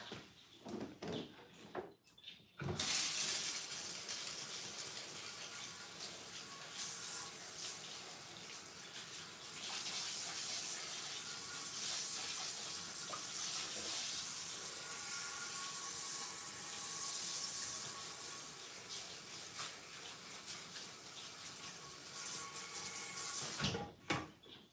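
Tap water runs steadily and loudly for about twenty seconds while a dyed wig is rinsed out under it, starting abruptly after a quiet moment and cutting off near the end.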